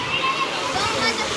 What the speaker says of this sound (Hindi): काफ़ी तेज़ी से पानी गिरने लगा